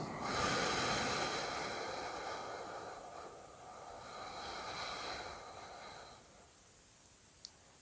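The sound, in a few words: long slow exhalation in sophrology breathing exercise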